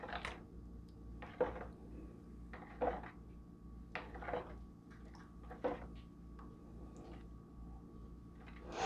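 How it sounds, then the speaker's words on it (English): Soup in a pot is stirred with a utensil, giving soft, intermittent scrapes and clinks, roughly one every second or so, quiet and close against a faint hum, with no talking. "stir it around some more"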